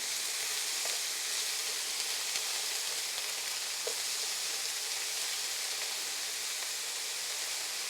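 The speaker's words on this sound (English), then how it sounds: "Now you can see some of the beef is caramelising, which is lovely." Beef browning and caramelising in a pan for a Filipino dish, a soft, even frying hiss that runs unbroken with a couple of faint clicks, nobody speaking.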